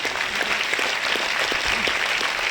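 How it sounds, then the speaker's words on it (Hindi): Applause from an audience at a felicitation event for an honored guest, a steady brisk clapping of many hands with a few sharper individual claps standing out. "तो विजय पेड़ालू सर के लिए भी एक बार जोरदार तालियां सर की।"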